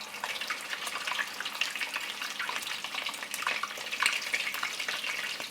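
Salmon cakes fry in hot oil in a pan, a dense crackling sizzle with rapid popping spits running steadily and close, with no voices.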